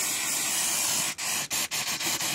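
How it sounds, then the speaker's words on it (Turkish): Brake cleaner sprays from a can onto the underside of a Mercedes Sprinter 313 CDI, a loud continuous hiss close by that breaks into several short bursts near the end. "Şimdi burayı temizledikten sonra bir balata spreyi ile şöyle yıkayayım."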